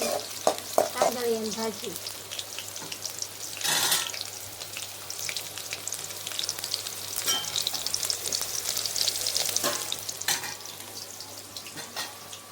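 Cumin seeds crackle and fry in hot oil for a Gujarati amaranth-leaf (tandaliya bhaji) dish, a steady close sizzle with sharp spits and a few scraping stirs, no talking.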